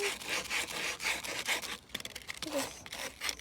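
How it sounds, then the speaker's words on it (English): Sandpaper rubs back and forth over a wooden toy horse during a repair, a close, steady run of rasping strokes, then a few shorter, uneven scrapes. "You get some sandpaper and lay the horse down."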